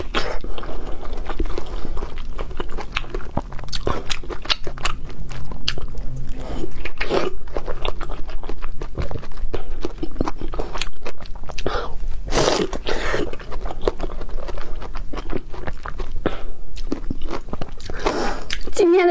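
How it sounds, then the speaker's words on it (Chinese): Close, wet chewing and crunching of cooked zucchini, with steady bites and mastication throughout, occasional throat sounds, and no talking. "今天的西葫芦真好吃，"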